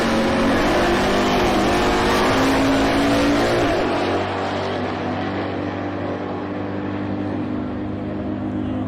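Drag racing cars at launch, including a 2018 Dodge Challenger, in a loud sustained engine roar with revving that eases slightly after a few seconds, with no talk.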